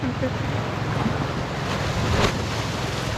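Sea waves washing onto a beach at Rawis, a steady broad rush of surf with wind buffeting the microphone throughout, and faint voices in the background.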